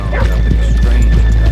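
Horses in the video game Red Dead Redemption 2 give a loud, close snort and whinny mixed with a few quick hoof thuds, all packed into under two seconds.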